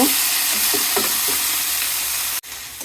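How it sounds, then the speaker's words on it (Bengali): Bottle gourd greens stir-fried with onion in a pan give a steady close sizzle, broken by several scraping stirs of a spatula and a sharp knock near the end. "ভালো করে শাকগুলির সাথে পেঁয়াজটা মিক্স করে নিব"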